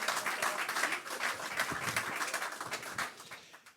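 Audience applause at a Deeptech Tour 2022 conference event in Centre Val de Loire: a room of people clapping steadily and fairly close, tapering off toward the end.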